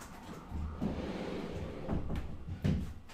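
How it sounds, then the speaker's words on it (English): A door is pushed shut indoors during a poker podcast recording, giving a few soft knocks and a muffled bump amid low room rumble. "We have a door here, we can shut it."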